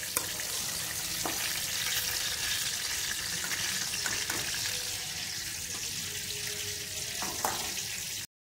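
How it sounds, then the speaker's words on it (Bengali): Eggplant pieces frying in hot oil, a steady broad sizzle throughout with a few faint clinks of a utensil, close and continuous with no talking. "এমনিভাবে বেগুনটা ভেজে নেবেন"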